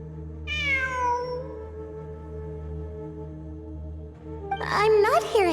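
A cat in the video game Genshin Impact, at ruins in Sumeru, gives one clear, drawn-out meow over a steady low game drone, followed by a brief burst of other game sounds at the end.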